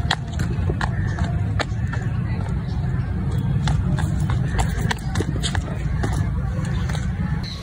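A striped donkey walks in a park, its hooves clip-clopping in a steady, close rhythm over a dense, noisy outdoor background.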